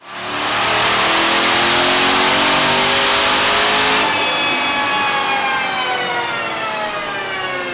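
A 2019 Dodge Charger Scat Pack's Hemi V8 with a twin turbo kit at 5 PSI revs hard and loud on a dyno, climbing steadily in pitch, then eases off to a lower rumbling drone, close up with no talking.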